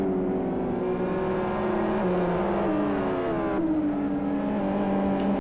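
GT500 and GT300 race cars lapping at Blackwood in a racing game, engines droning and shifting pitch in overlapping tones, a sustained steady roar with no talk.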